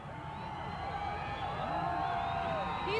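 A large crowd at the 1987 Minnesota Twins World Series championship parade mobs and cheers Kent Hrbek, a dense, steady roar of voices with scattered shouts and whoops throughout.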